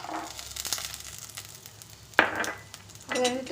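Green chilli and vegetables sizzle in a hot pan for a vegetable kichadi, with a steady frying hiss and a couple of scraping stirs. Someone speaks briefly over the cooking.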